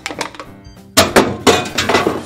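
An aluminum can dropped into a recycling bin among other containers, a series of sharp hollow thunks and clanks landing in quick succession, loud and close.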